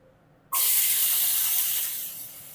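Vegetable pieces dropped into hot oil burst into a sudden loud hiss after half a second of quiet, then settle into a steady sizzle that eases slightly toward the end.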